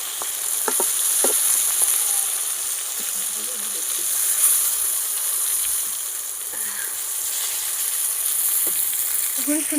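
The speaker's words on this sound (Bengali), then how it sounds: "তেলটা গরম হয়ে গেছে আমি বেগুনগুলো দিয়ে দেবো" Eggplant slices fry in hot oil in a wok over a traditional clay stove, a steady close sizzle running throughout, with scattered clicks and light stirring, and a voice heard faintly at moments.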